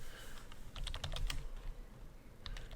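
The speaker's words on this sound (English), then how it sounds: "So let's type in Lego here." A Steam Deck user types a game title into a search box, a quick burst of several close, crisp key clicks followed by a pause and a couple more taps.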